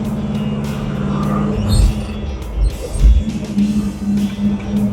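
A 1957 Chevy with a freshly repaired clutch drives along, a steady low engine drone with a few heavier surges, fairly close and continuous with no talk over it.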